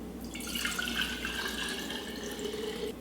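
Nearly a quart of water pours steadily into a large bowl for sourdough bread dough, a close, continuous splashing stream that runs for a few seconds before tapering off.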